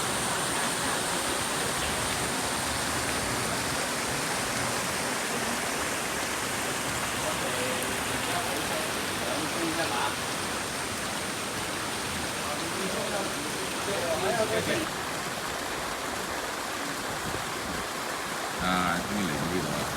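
A river flows at Tamsui in Taipei as a steady, broad rushing wash of water that holds even throughout, with faint voices now and then underneath.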